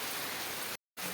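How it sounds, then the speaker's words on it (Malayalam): Heavy monsoon rain pours down in a dense, steady roaring hiss, cut off briefly for a moment before resuming just as strongly. "ഭയങ്കര മഴയാണ് കേട്ടോ അതിൻ്റെ ഒരു സൗണ്ട് വേരിയേഷൻ നിങ്ങൾക്ക് വീഡിയോയിൽ"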